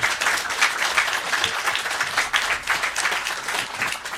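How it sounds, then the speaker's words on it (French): A French audience at an insurance-convention talk applauds the speaker Michel, steady dense clapping filling the whole stretch at a fairly loud, even level with no voices over it. "Je pense qu'on peut l'applaudir."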